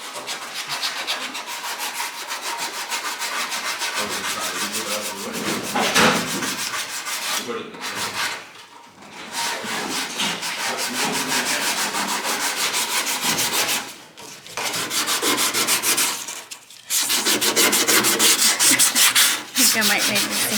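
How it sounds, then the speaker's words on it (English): Hand sanding of rust on a 1970 Chevelle with sandpaper: loud, close, continuous back-and-forth rubbing strokes that break off briefly a few times before starting again. "I think I might need a new piece of sandpaper"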